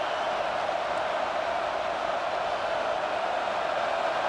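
Steady, dense roar of a home crowd at a college football game, Alabama Crimson Tide against South Carolina, as the defense faces third down; broad and continuous throughout with no distinct voices standing out.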